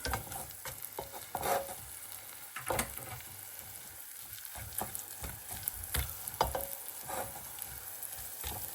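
Onions frying in their own oil over a camp stove on a mountain, a soft crackling sizzle broken by repeated scraping stirs, fairly quiet and close.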